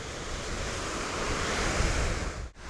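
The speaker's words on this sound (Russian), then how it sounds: "Оттуда ручей сливается с рекой." A mountain stream pours into the Chirag River in Dagestan, a loud, steady broadband rush of fast water with wind buffeting the microphone, continuous and close.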